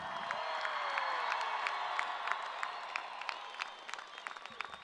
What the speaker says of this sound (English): How about a big cheer?